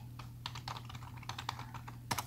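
Quick, close keystrokes tap on a computer keyboard as a company name is entered into an Excel sheet, forming a short burst of light clicks.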